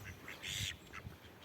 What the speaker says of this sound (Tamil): வாத்துங்கள்லாம் பின்னாடியே வருது பாருங்களேன்